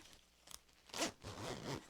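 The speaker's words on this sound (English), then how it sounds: "It's got this old school kind of zipper on it." An old-style zipper on an oversized fall clothing item, handled in a quiet setting, gives a couple of short rasping pulls with soft fabric rustling around them, close and fairly faint, with no talking.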